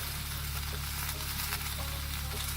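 Cheesesteak meat sizzles on a hot griddle with a steady, even hiss and crackle. A low hum runs underneath, with no voices.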